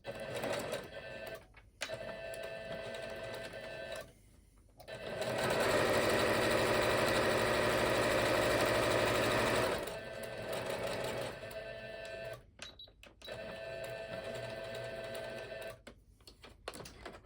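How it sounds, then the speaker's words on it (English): A sewing machine stitches a fabric coaster close by, its steady mechanical whirring clatter running in bursts, with a long continuous run in the middle and brief pauses between stitching passes. "let's get sewing this one now. Pull my sewing machine back so you can see it."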